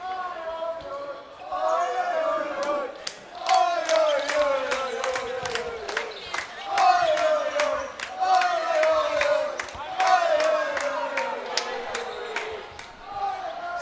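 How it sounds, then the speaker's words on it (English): Swedish fans cheer and shout at a foam dodgeball world championship match between Argentina and Sweden, a loud continuous crowd roar with repeated sharp ball thuds and rising chant-like voices, under commentary. "Sweden's fans cheering the side on"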